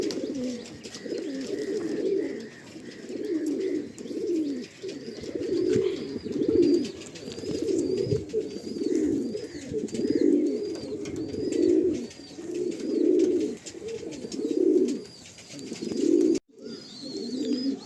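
Tournament-quality breeding pigeons coo repeatedly in a crowded home loft, a steady run of soft, throaty bursts close by with faint chirps above.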